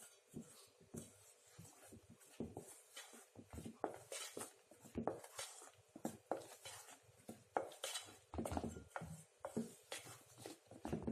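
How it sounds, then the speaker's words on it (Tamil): Flour is folded into cake batter for a pressure cooker cake, a utensil scraping and swishing through the thick mix in soft, irregular strokes, quiet and close. "கொஞ்சம் ஸ்மூத்தாகவே கலக்குங்க மாவு ஆட் பண்ணும்போது"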